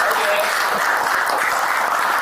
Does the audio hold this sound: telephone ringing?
no